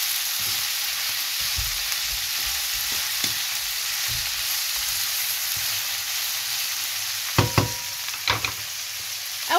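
Peppers and onions for shawarma sizzle steadily in a hot pan, a constant frying hiss with scattered soft scrapes and clacks of stirring, sharper knocks near the end.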